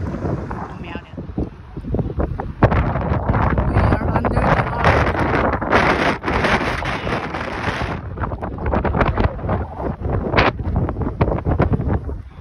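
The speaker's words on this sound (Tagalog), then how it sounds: "Nakakahilo yung hangin." Strong wind buffets the microphone outdoors while exploring St. Louis, Missouri, producing loud gusty rumbling that rises and falls throughout, with people talking underneath.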